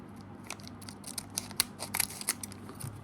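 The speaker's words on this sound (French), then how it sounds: "Allez, on va prendre le ciseau." Scissors snip open a trading card booster pack, a run of sharp close crisp cuts and crinkling foil rustles at an uneven pace.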